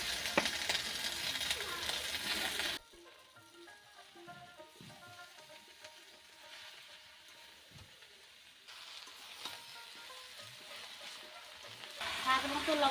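Fried potato, taro and spinach going into a pan for a Bengali spinach and snail ghonta, with loud sizzling and frying at the start and end and a quieter, lighter hiss of stirring in between.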